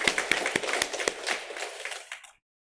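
A church congregation claps in a steady rhythm during a Sunday worship service, sharp evenly spaced claps over a bright wash of sound that fades and then cuts off.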